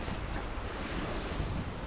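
Steady easterly wind buffets the microphone on the Bristol Channel foreshore at Cardiff in January, a dense low rumble mixed with broadband surf hiss, continuous and close with no voices.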